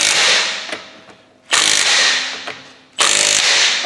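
An impact wrench hammers a bolt up to 162 foot-pounds during rear brake work on a 2019 Ford Edge, delivered in three loud, close bursts of rattling impacts, each tapering off before the next begins.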